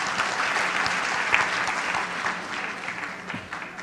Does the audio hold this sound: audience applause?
yes